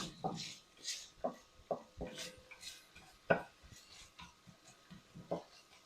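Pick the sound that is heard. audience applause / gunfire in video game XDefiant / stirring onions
stirring onions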